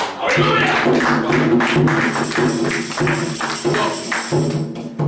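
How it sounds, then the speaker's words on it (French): A church congregation claps in acclamation during a service, with rhythmic, fairly loud clapping over singing voices and tonal music throughout. "Acclamation pour le Seigneur."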